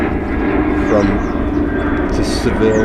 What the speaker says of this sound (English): there's an airplane going overhead.